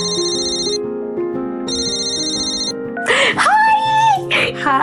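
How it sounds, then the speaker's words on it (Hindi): A mobile phone rings with an incoming call, a melodic electronic ringtone repeating twice at close range before it cuts off and a voice answers. "तभी उसकी दादी का फोन आया"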